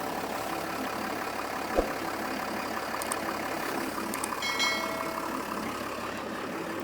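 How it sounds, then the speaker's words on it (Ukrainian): John Deere 6800 tractor, a 120-horsepower engine, running steadily at a low idle-like drone while its front hitch is demonstrated, with a brief knock partway through and some faint clanks. "зараз продемонструємо, як працює передня навіска"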